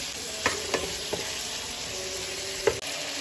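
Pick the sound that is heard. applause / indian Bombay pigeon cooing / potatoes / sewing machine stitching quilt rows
potatoes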